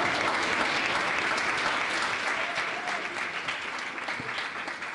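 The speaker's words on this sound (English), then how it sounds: "And this applause is a thanks." Sustained applause from a large audience at a European political presentation event, dense steady clapping that continues throughout and tapers slightly toward the end, with no talk over it.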